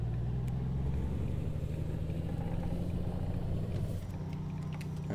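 Deep, bassy diesel drone of a Volvo VNL 2018 truck with a 450 engine in American Truck Simulator, a steady low rumble with a slight shift near the end.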